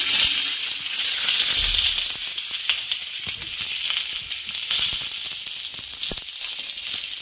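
Three ripe red tomatoes roasting in oil on a tawa, a continuous bright sizzle close up with occasional faint taps and turns, no talking.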